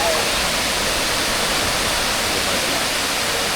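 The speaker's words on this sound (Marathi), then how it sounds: "वावणारी नदीचा आवाज बघा" Near the Dhutpapeshwar temple at Rajapur in Konkan, a flowing river makes a loud, dense, unbroken rush of water that fills the whole scene.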